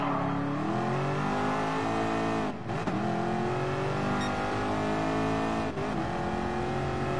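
Race cars in Gran Turismo Sport, including a Mustang and a Bugatti, roar continuously as engines accelerate and rev through gears, a dense loud mechanical drone with brief dips during shifts.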